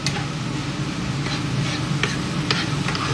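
Food frying in a pan at home, a soft continuous sizzle with a few sharp crackles and pops near the end, fairly quiet and close, no talking.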